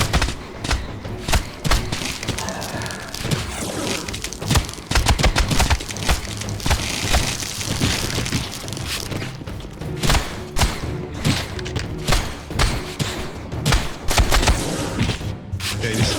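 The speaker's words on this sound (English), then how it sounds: "these fucking annoying shots" Rapid volleys of shots and heavy thuds in Legacy of Kain: Defiance Remastered, dense and continuous crackling impacts over a busy game soundscape, fairly loud and without talk.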